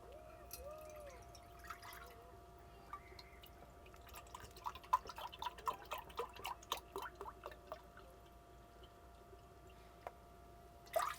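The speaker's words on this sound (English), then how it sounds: "And we're going to pour this in here." Broth being poured into a cooking pot on a stovetop, a run of small liquid splashes and drips over several seconds, fairly faint against a steady low kitchen hum.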